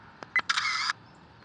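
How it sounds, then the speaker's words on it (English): A GiiNii GD-80 1080P dashcam plays its simulated camera shutter sound when taking a picture: two tiny clicks, then a short bright mechanical snap, close and clear over quiet room tone. "you can hear it sounds like a camera shutter"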